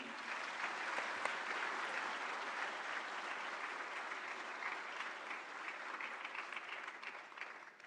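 An audience welcoming Prime Minister Narendra Modi onto the stage at a PM-VBRY incentive distribution event bursts into dense, sustained applause, steady and full for the whole stretch with no voices on top.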